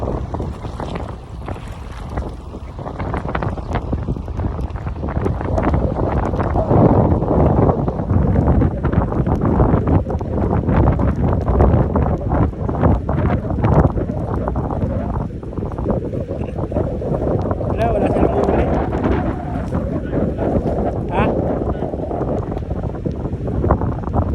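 Steady roaring wind from an approaching hurricane buffets the microphone, with a dense hiss of heavy rain and water noise underneath, loud and constant throughout.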